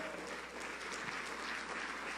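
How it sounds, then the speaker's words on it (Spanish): Church congregation applauding during a sermon, a steady wash of many hands clapping at a moderate distance, continuous and fairly quiet. "¿Le pueden dar un fuerte aplauso al Señor Jesús?"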